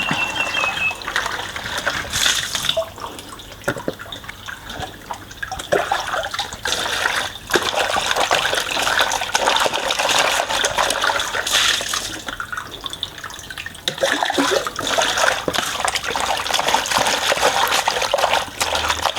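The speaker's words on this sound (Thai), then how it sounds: "ล้างหลายๆครั้งนะคะ ล้างสักห้ารอบหกรอบล้างไปเถอะค่ะ" Raw pig intestines being washed by hand under running water, with a continuous splashing, trickling flow and sloshing from handling in a basin, close and steady throughout.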